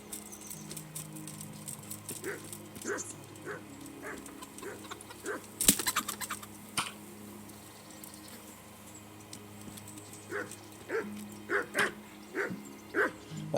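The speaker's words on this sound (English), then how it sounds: "Oh, there's some chickens here." A dog gives a series of short, fairly faint barks with chickens nearby in Kingdom Come: Deliverance, spaced out over a quiet outdoor background.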